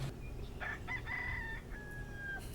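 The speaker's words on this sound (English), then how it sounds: "The roosters." A rooster crows once from a movie soundtrack, a fairly quiet but clear cock-a-doodle-doo lasting about two seconds against a faint background.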